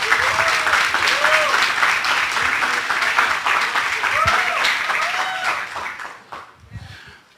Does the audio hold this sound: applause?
yes